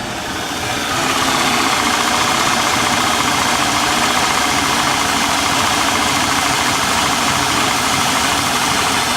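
A 1992 Ford Explorer engine runs close by with the throttle opened up. After a quieter first second it settles into a loud, steady, rough roar with a knocking rattle, continuing unbroken to the end with no talking.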